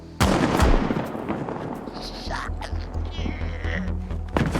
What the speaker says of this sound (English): it's Sid, who shot Bob in the gut